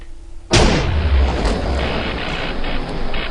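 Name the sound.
explosion in Minecraft GregTech mod, video game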